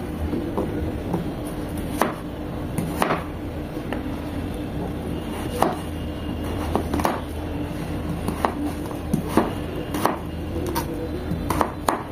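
Beetroot is chopped into small pieces on a board for juice, with crisp knife strikes in an irregular rhythm over a low background rumble, fairly close and clear.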